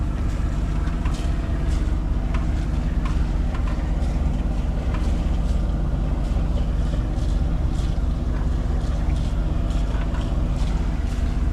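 A boat engine running at 2,800 RPM drones steadily and continuously for the whole stretch, loud and close, mixed with wind buffeting the microphone and no talk.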